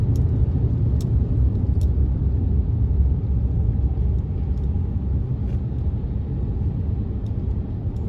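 A car driving along the Lat Phrao–Rangsit road in Thailand, heard as a steady, close, low engine and tyre rumble from inside the cabin that holds at an even level throughout, with no talking.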